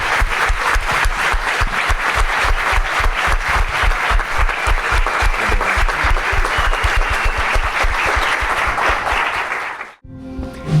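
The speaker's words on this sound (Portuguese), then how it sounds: "Vamos dar uma salva de palmas para essa família querida." A congregation applauds a family during a church pastoral ordination service, with loud, dense clapping that holds steady for about ten seconds before stopping abruptly.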